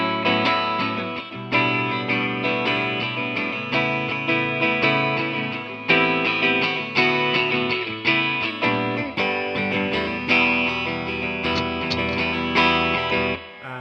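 Stage-left electric guitar at a sound check, heavily effected with distortion and chorus, plays a sustained run of chords and notes at steady volume with brief accents, with no voices.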